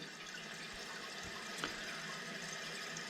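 Water runs in a steady, quiet rush as a toilet tank refills after a fill valve replacement, with one small splash partway through.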